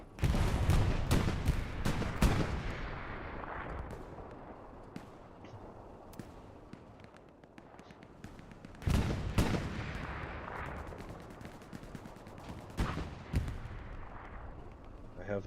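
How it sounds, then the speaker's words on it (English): Artillery shells firing and exploding in the console game Hell Let Loose, heavy booming blasts in clusters at the start and again midway, with scattered lighter gunfire cracks and rumbling impacts between them. "I'm going to be firing arty shells that you see landing to the right of your screen, most likely."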